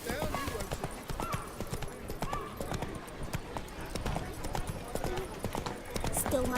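Geralt's horse Roach gallops in The Witcher 3: Blood and Wine, a steady, close clip-clop of hooves running throughout while voices talk over it.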